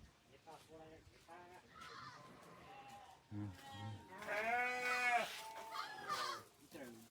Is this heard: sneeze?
no